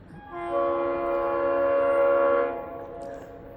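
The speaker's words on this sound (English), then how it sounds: "It looks like the honoring our veterans locomotive. Sounds like it too." The Honoring Our Veterans locomotive on the FEC line sounds a long, steady multi-tone horn blast at a crossing, swelling in loudness and then cutting off, with no talking over it.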